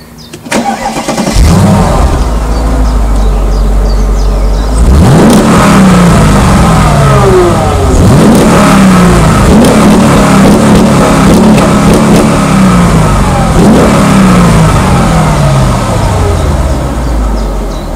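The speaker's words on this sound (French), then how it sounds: "Je vous laisse écouter ce moteur et vous m'en donnerez un petit peu des nouvelles." A powerful Mercedes E55 AMG W210 V8 engine starts and revs repeatedly, loud and close, with rising and falling roars between idle.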